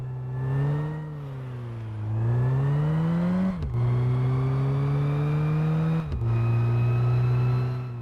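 A race car fitted with a performance camshaft revs and accelerates, its loud engine drone climbing in pitch, easing off, then climbing again with two brief gear-change dips, close and steady throughout.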